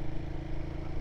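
Royal Enfield Guerrilla 450 motorcycle engine labouring up a steep hill in a low gear, a steady close mid-pitched drone with a slightly uneven, hunting throb, no talk over it.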